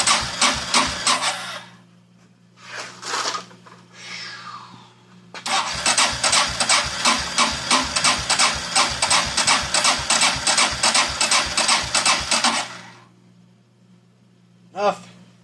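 Kawasaki Prairie 400 ATV under repair, its starter cranking the engine in a long, rapid, rhythmic churning run that does not catch, after shorter bursts and with voices heard around it.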